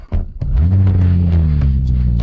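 A car engine starts with a thump and then rumbles steadily as the vehicle pulls away, a close, loud low drone holding for a couple of seconds without speech.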